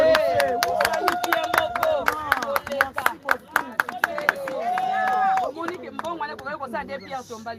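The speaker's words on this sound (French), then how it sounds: "Applaudissez quand même." Mourners gathered at a graveside for a tombstone ceremony clap in sharp, irregular bursts while voices sing and talk over them throughout.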